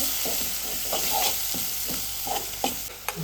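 Red chili powder, garam masala and turmeric get stirred into a crab curry in a hot pan, with a steady sizzle and repeated spoon scrapes and knocks in an uneven rhythm.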